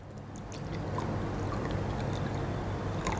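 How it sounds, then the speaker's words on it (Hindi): Water pours steadily into two glasses, a continuous close splashing stream with brief clinks, alone without talk. "डेमो के लिए हम दो गिलास ले रहे हैं जिसके अंदर पानी डाल रहे हैं"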